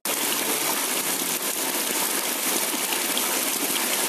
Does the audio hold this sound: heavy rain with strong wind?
yes